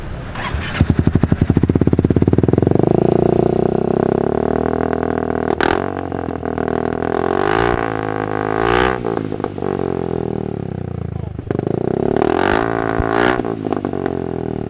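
A modified Honda Forza 350 scooter engine revs hard close by, climbing and falling in repeated throttle blips with a raspy aftermarket-sounding exhaust and short gaps between the bursts.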